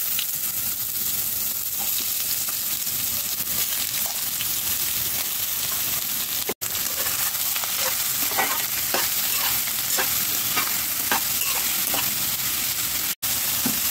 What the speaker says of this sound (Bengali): তেলটা গরম হয়ে গেছে, এবার আমি লাউটাকে দিই।